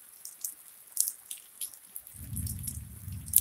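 Rain falling during an afternoon thunderstorm in Leilani Estates, heard as scattered drips and patters at first, then joined by a steady low rumble of heavier rain or thunder for the second half.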